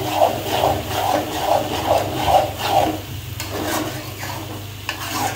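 Chow mein is stirred and tossed in a pan, with rhythmic scraping swishes about twice a second over a low sizzle, close and fairly loud, then settling into a few lighter scrapes.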